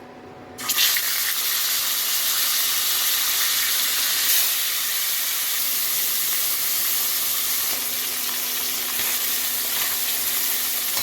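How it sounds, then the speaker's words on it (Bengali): Tilapia fish frying in hot oil in a pan give a steady, loud, close sizzle that starts abruptly and keeps going without a break, with no talking over it. "এবার আমি সবার প্রথমে মাছগুলোকে ভেজে নিচ্ছি"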